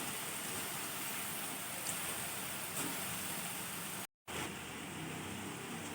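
Steady rain falls in a soft, even hiss that continues throughout at a low level, briefly cutting out once.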